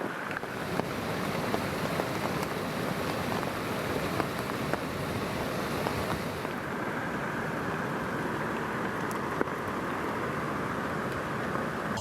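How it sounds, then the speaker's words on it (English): Heavy rain pours down steadily outdoors during a flood in British Columbia, a dense, continuous hiss with some wind buffeting the microphone. The sound is close and unbroken throughout, and no voices are heard. "even though we have so much rain coming down"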